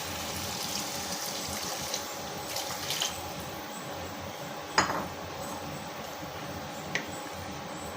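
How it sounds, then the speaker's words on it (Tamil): Water splashes and pours steadily nearby, with occasional metallic clinks of a pot. "அந்த தண்ணியை சேர்த்து தான் ஊற்றுறேன்"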